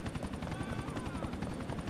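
Rapid rotor blade pulses from a Grand Theft Auto IV helicopter beat in a steady, close rhythm over a constant turbine drone, heard alone.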